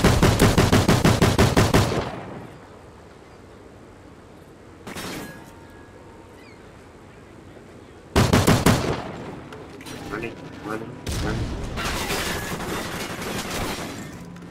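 Rapid automatic gunfire in Call of Duty Modern Warfare 2, loud bursts of several seconds that alternate with quieter stretches of game ambience, and a final burst trailing into sustained firing.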